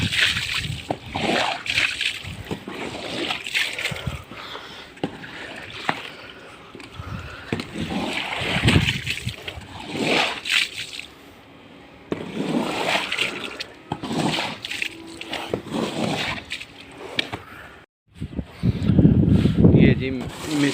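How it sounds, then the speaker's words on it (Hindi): Rainwater being drained down from a rooftop, heard as sloshing, splashing and pouring water that surges and pauses irregularly, fairly close. "अभी छत से पानी नीचे उतारना।"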